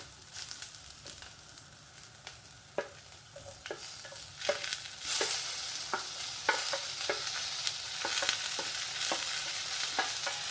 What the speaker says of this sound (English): So I am going to put now tomato.